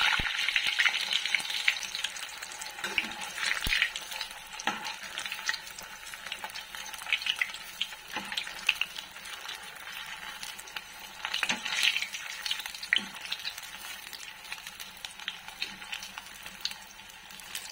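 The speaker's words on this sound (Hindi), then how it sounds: "अब ये मैंने बिल्कुल जमा हुआ कटलेट डाल दिया सीधे कढ़ाई में।" Frozen veggie cutlets frying straight from frozen in a kadhai of oil give a steady crackling sizzle with occasional stirring clinks and bursts of popping, moderately quiet and without voices.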